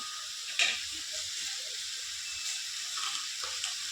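Spices for a rohu fish curry sauté in a pan, a soft continuous hiss and sizzle with a few light scraping taps from stirring, close but fairly quiet.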